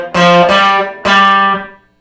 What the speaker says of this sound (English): our basic kind of blues bass line that is very commonly doubled up on guitar